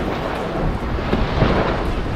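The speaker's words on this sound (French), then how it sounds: "Ça va mieux, le vent est revenu." Wind at sea aboard a Mini Transat sailboat during the 2021 race: a loud, steady roar with low buffeting rumble filling the whole stretch, no speech.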